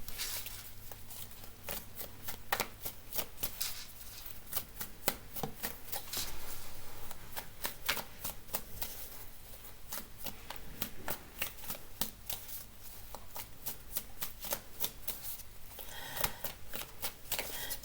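Tarot cards are shuffled close by, giving a long run of rapid, crisp riffling flicks that come in repeated waves with short gaps, over a faint steady hum and no talking.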